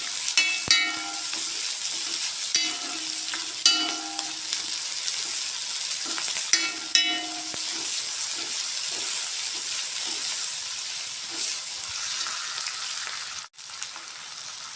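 Green chillies and curry leaves sauté in a pan for a snake gourd and grated coconut stir-fry, a steady close sizzle with crackling pops and occasional scraping stirs, no voices.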